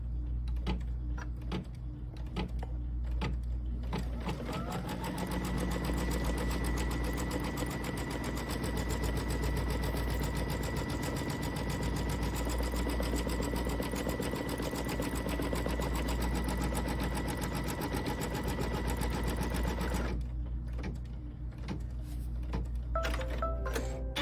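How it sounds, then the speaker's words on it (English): A sewing machine stitches a holiday quilt project in a long, steady run of rapid mechanical needle strokes, close and loud, stopping near the end with no talk over it. "we're going to stitch it one more time"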